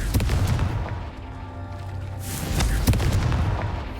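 The Confringo fire spell from a Wizarding World video game bursts in repeated booming blasts, with a rumbling low roar between impacts, close and loud.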